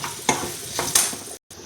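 Curry leaves and dried red chillies fry in hot oil for a dal tempering, giving a steady close sizzle with a few louder spatters and stirring scrapes, then a brief cut.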